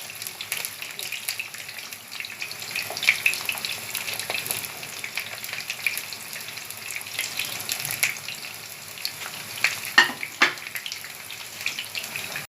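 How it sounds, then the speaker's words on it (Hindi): Eggplant pieces deep frying in hot oil, a continuous crackling sizzle with scattered pops and a few louder bursts, close and steady with no talking. "ये हमारे बैंगन फ्राई हो गए हैं।"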